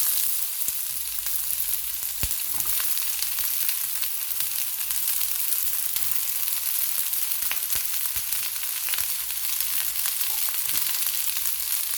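Broccoli and onion sizzle in a pan for broccoli chutney, a steady loud frying hiss with scattered crackles and pops running unbroken, no voices over it.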